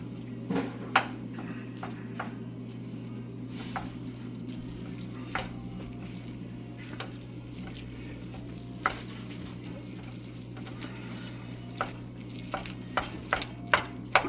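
Rice and melting cheese being stirred in a pan, a soft steady background hiss with scattered light scrapes and taps of the utensil against the pan, close and quiet.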